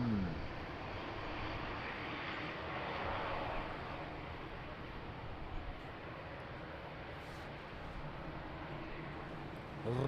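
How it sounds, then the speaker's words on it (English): ATR 72 turboprop airliner at Lisbon Airport in rain and wind, a broad, steady engine roar at moderate distance that swells slightly then holds. "That's an ATR 72"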